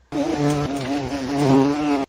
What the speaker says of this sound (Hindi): तो मक्खी और मधुमक्खी दोनों की आवाज को जो है बज कहते हैं